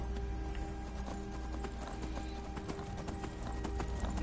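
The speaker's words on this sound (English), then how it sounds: "Come on, horse." Horse hooves clip-clop in steady rhythm in the video game Skyrim, a continuous trotting patter under a droning in-game background, with a faint whinny-like texture mixed in.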